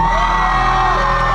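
A concert crowd at Taipei 101's water-dance plaza during a year-end show screams and whoops loudly and continuously, a dense wall of cheering with no break.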